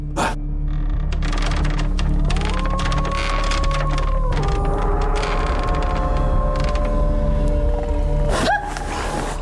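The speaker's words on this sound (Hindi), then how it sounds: "पेड़ इतनी जोर से चीख रहे हैं।" Trees in a forest creak and screech in long, wavering, groaning tones that rise and bend. The sounds are loud and close, with sharp cracking bursts at the start and the end.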